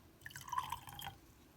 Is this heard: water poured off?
yes